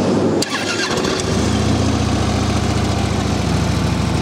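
A Harley-Davidson Street Glide FLHX with factory exhaust cranks briefly and catches, then settles into a steady, loud, close low rumble at idle with no talk over it.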